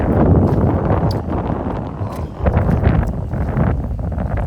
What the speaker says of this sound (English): you can hear the wind, I'm sure. It's been whipping